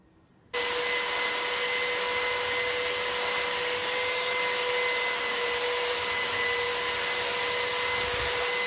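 An electric sander runs on a wooden cratch board for a narrowboat, starting abruptly after a brief quiet moment and then holding a loud, steady whirring hiss with a constant motor whine, close by and without speech.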